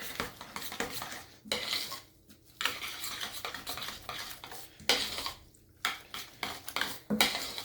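Noodles being mixed in a bowl: steady clinking and scraping of utensils against the dish, in repeated bursts with brief pauses, close up and with no talking.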